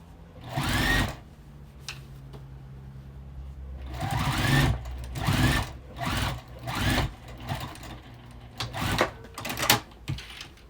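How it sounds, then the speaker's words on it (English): A sewing machine stitches across the bottom of a quilted bag's lining in several bursts of whirring, each lasting a second or so, with short pauses between them. It is close and clear, and no one speaks. "I'm just sewing the bottom of the lining shut"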